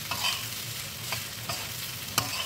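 Kerala-style beef fry with roasted coconut bits being stirred in a pan, a steady close sizzle broken by a few sharp scraping clicks of the spoon against the pan.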